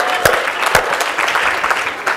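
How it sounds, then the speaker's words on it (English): An audience at a social entrepreneurship talk applauds for OPM, loud continuous clapping from a crowd with a few sharp, prominent claps standing out near the front. "Let's all give OPM a round of applause."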